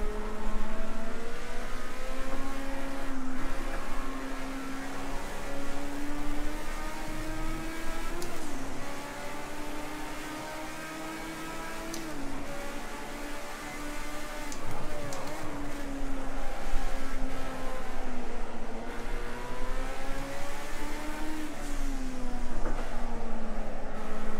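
A Porsche Group 5 race car in Project Cars 2 at Watkins Glen howls at high revs, its engine note climbing and dropping through gear changes in a loud, continuous drone.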